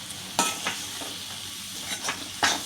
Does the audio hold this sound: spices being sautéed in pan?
yes